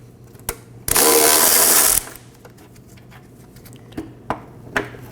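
Ratchet breaking loose 13mm bolts on a bracket under a 2015-2023 Nissan Maxima 3.5L V6, one loud dense burst of rapid clicking lasting about a second, followed by a few faint sharp taps.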